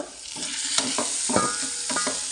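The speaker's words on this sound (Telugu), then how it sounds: "మంచిగా వేగుతుంది." Carrot curry frying in a pan, with a continuous sizzle and a few ladle scrapes and stirring knocks, close and fairly loud without any voices.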